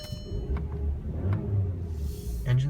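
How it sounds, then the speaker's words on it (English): A 2017 VW Jetta 1.4T SE turbocharged engine idles and runs quietly, a soft, low mechanical hum heard from inside the car with a faint rise in revs near the end. "Engine's pretty quiet. It sounds like a nice, perky little engine."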